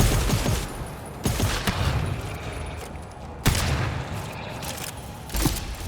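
Gunfire in the video game GTFO, several loud sharp shots spaced out over a few seconds, each with a short rumbling tail, over a low continuous background hum.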